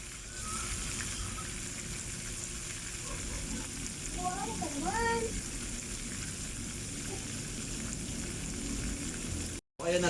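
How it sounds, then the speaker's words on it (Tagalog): Squid pieces sizzling in hot oil in a pan, a steady, fairly quiet crackle and hiss running throughout, with a faint voice-like sound partway through. "bali pangatlong batch na ng piniprito ko yan guys"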